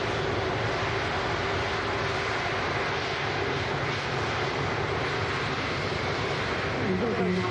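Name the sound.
Virgin Atlantic Airbus A330 aircraft at Manchester Airport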